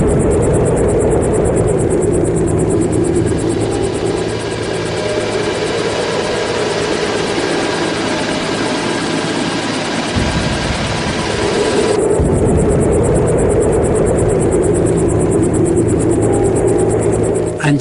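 A helicopter flies nearby during a passenger ride, its loud steady rotor and engine roar continuous throughout, with the low thumping briefly dropping away mid-clip before returning.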